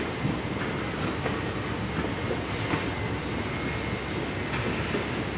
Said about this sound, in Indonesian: ini kita sekarang berada di peron stasiun kereta bandara nih